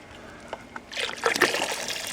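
Hot water splashes and trickles steadily into a bucket after a couple of faint clicks, a close, continuous pouring sound during a brewday.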